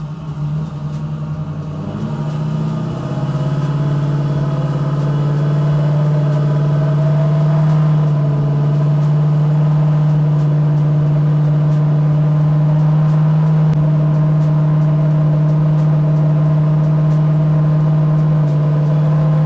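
A car engine on a dyno in second gear drones loudly and steadily at high revs for a long stretch, its pitch climbing slightly early on, with no voices.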